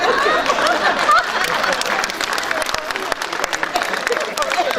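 An audience at a Hindi poetry recital (kavi sammelan) breaks into applause, a crowded wash of clapping with scattered chatter and voices mixed in, sustained at moderate loudness.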